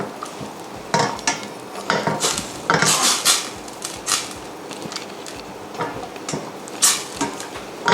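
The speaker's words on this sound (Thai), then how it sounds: "ผัดผัดคั่วๆเข้าไปสักสักนิดหนึ่งครับ เอาให้หอมเนาะ" Curry paste for a southern Thai catfish curry stir-fried in a metal pot, with repeated scraping and clanking of a utensil against the pot in irregular bursts, close and fairly loud, no voices.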